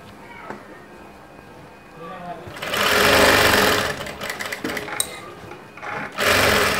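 Electric sewing machine stitching padded blouse fabric for a princess-cut front panel, starting after a quieter stretch as a loud steady whirr, pausing briefly, then running again, with someone talking before and between.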